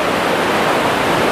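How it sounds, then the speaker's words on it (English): Creek water rushes in a steady, loud broadband hiss, close and unbroken for a brief moment with no voices. "we hit this cool creek here"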